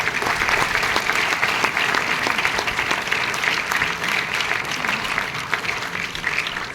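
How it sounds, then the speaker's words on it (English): A full room's steady round of applause for Vikas at a talk by a retired Para SF major general, dense, even clapping that holds throughout with no talk over it. "Let's give him a round of applause."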